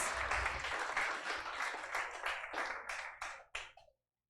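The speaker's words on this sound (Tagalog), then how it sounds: "Yung malakas naman na palakpak para sa Diyos." Church congregation clapping loudly together, a sustained dense burst of applause in a reverberant hall that thins into a few scattered claps before stopping abruptly.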